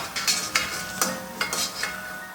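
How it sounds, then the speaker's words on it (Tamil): Methi pakoda bobbing in hot oil gives a steady close sizzle, broken by several brief scraping stirs and splashes as the fritters are turned in the pan. "ஒரு பக்கம் ஃப்ரை ஆயிடுச்சு இப்போ திருப்பி போட்டுக்கலாம்"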